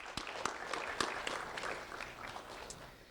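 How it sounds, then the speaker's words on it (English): Audience applause for Lee County Sheriff's Office volunteers, steady clapping with a few sharp individual claps standing out, moderately loud and slowly tapering. "Let's have a round of applause for our Lee County Sheriff's Office voice members"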